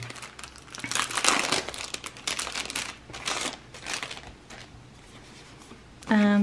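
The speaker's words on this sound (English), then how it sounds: "And then here is my order. Let us open." Plastic and paper packaging from a sticker order crinkles and rustles in close, irregular bursts as it is torn open, with a short tonal sound right at the end.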